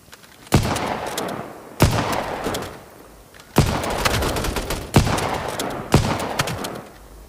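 Shotgun fire in the mobile shooter Battle Prime, five loud sharp blasts about a second or more apart. Each one has a booming tail that decays between shots.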